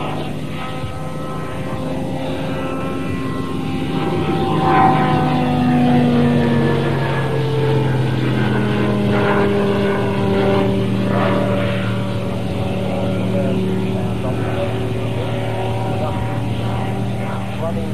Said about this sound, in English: the only purpose-built observation aircraft in the world